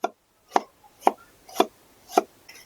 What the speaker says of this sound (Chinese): 再切一点姜